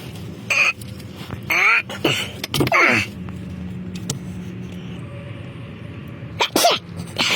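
Several short, sharp sneezes over a steady low engine-like hum in a Mercedes-AMG oil change setting, with a final burst near the end.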